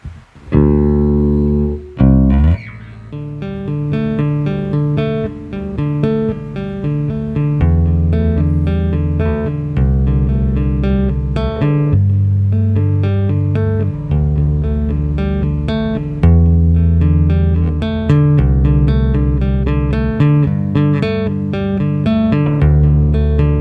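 A Fender Urge Stu Hamm signature active electric bass with a punchy, boosted midrange plays a groove of sustained and plucked notes, loud and close, no speech.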